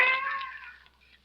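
A single drawn-out cat meow on a rooftop in a radio drama, clear and fairly close, rising briefly and then trailing off into quiet.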